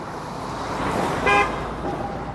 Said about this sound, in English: Why are you honking at me?